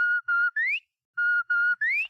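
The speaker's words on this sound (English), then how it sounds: "This whistle means suspicious characters at 8th and Elm." Two sets of three sharp whistle blasts: two steady tones, then a rising one, separated by a short pause. Clear, close and loud.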